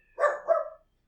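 A dog lets out two quick, close barks in a row, loud and clear with nothing else in the background.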